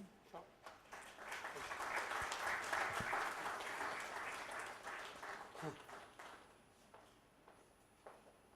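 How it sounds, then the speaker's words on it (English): An audience claps for a doctor at a presentation, with a steady round of applause that swells, holds for several seconds, then thins into scattered claps and fades. "a big round of applause, everybody"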